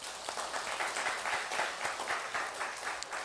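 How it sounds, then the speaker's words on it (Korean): Church congregation at a Sunday service applauding to welcome a new member, a moderate, even round of many hands clapping from across the sanctuary, somewhat distant and without voices. "박수로 환영하시겠습니다."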